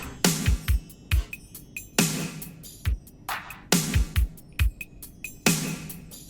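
Percussion drum loop in a music track, a crisp repeating pattern of sharp hits with deep booming low thumps, cycling at a steady groove.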